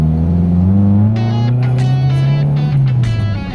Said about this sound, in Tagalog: test drive natin itong Toyota Corolla na 2 engine mga boss